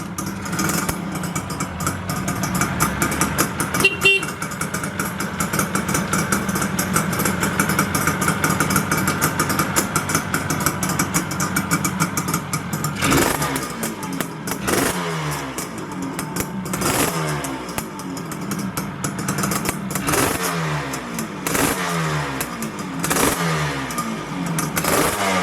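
A 1979 Suzuki GT250 X7 motorcycle engine runs close by, first at an even two-stroke idle, then revved repeatedly in sharp rising bursts that fall back toward idle, with no talking over it.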